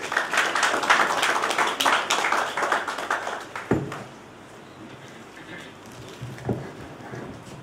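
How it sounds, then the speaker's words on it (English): Audience hand clapping at the Manzini 2021 annual general meeting, a dense, fairly loud burst of many hands that keeps going for about four seconds, then fades into quieter room noise with a few stray claps. "May you please welcome her with a hand clap, please."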